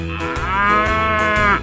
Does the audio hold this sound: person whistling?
no